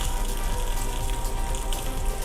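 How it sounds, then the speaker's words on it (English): Fish sears in a hot pan with a dense, steady sizzle and crackle, close and loud for the whole short moment, with no talking. "and I'm just letting it sizzle"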